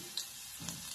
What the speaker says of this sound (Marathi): या ठिकाणी आपलं तेल चांगलं तरतलेलं आहे, याच्यामध्ये कांदा घालायचा।